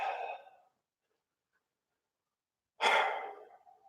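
Two breathy exhales come during a yoga routine, a short one at the start and a longer, louder one after a stretch of silence. Both are close and clear, with no talking.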